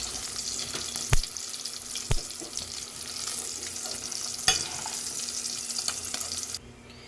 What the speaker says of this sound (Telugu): ఎండు చేపలు అయితే వేగాయి